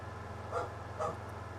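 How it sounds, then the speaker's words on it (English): Hank, a dog, gives two short barks about half a second apart, moderately close, over a steady low hum. "Hank will bark like this and then he'll stop for the day"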